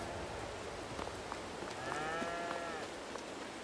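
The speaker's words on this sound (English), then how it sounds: "Hey, cows, how we doing?" Cattle in the farming video game Farming Simulator 22 moo in a few drawn-out, wavering calls at moderate distance, over a steady patter of in-game rain.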